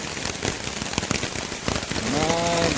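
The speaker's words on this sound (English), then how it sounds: "Well, it's a raining now." Steady rain patters and drips around an Appalachian Trail shelter in Georgia, with irregular close drops striking surfaces over a constant wash, and a faint higher tone rising near the end.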